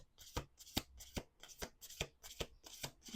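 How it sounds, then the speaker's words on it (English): Cards being shuffled in repeated quick riffles, about eight crisp bursts in a steady rhythm, close and fairly quiet. "Two more shuffles."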